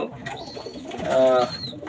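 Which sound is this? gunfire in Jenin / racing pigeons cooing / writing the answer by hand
racing pigeons cooing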